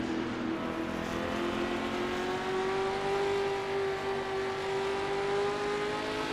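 A historic sportscar's engine drones steadily around the Riverside circuit in the Assetto Corsa racing game. The loud, close, continuous engine note bends slightly in pitch as the car slows on the engine for a corner.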